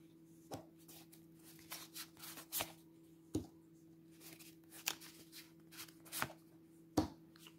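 Tarot cards being shuffled by hand, a soft, quiet series of irregular riffles and light snaps against a low steady hum, close up.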